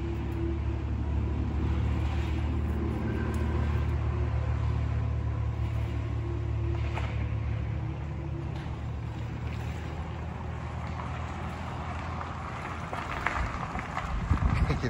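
An Audi e-tron on Nokian tires rolls along a road with a little snow in the air, giving a steady low rumble of tire and road noise that stays fairly even throughout, with no talking over it.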